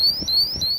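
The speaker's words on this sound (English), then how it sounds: "it set off alarms." A handheld ethylene oxide gas monitor sounds a piercing, high-pitched electronic alarm inside a warehouse, repeating quick warbling beeps steadily and clearly on its own.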